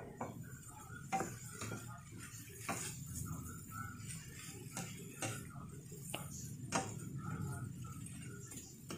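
Boiled carrots tipped into a pan of Korean noodles, with scattered clinks and scrapes of utensil against cookware and a faint sizzle underneath, close by and fairly quiet, with brief talk in between.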